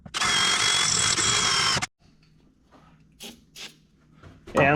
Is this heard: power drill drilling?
yes